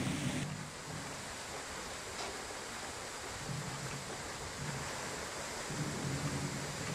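Steady rushing water with a broad, even roar as a water mill wheel turns continuously; no voices, constant level throughout.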